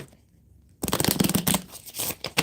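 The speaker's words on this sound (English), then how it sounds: "One more shuffle, one more shuffle." A short silence, then a quick riffling burst of cards being shuffled, crisp and close.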